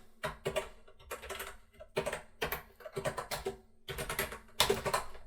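Typing on a full-sized VIC-20 replica keyboard, close and clear, in bursts of rapid key clacks separated by short pauses, with no talking.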